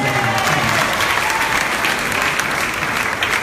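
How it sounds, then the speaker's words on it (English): A comedy show audience in the Caribbean claps and cheers steadily throughout, a thick, even wash of applause with no gaps. "Come on, let's give Kenneth a wonderful round of applause."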